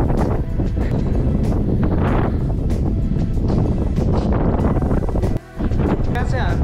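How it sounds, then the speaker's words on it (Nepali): Strong wind at the Mudhkhu Vanjhyang hilltop near Kathmandu roars and buffets the microphone in loud, continuous gusts, with a voice faintly underneath. "हावा चाहिँ डेन्जर चलिरहेको छ।"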